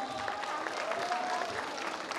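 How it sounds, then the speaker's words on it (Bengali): An audience at an event for successful students applauds for Shreya, giving a continuous wash of clapping at moderate volume with faint voices underneath. "জোরে হাততালি শ্রেয়ার জন্য।"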